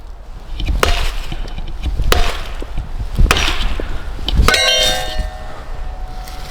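An axe swung into wood at a cabin lands four sharp, ringing chops roughly a second apart, each followed by splintering crackle, loud and close, with no talking.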